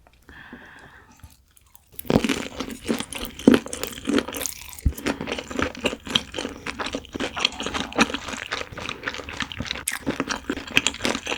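Fried cream shrimp is chewed close to the mic at a mukbang meal, with a loud, steady run of wet crunching and biting after a brief quiet start.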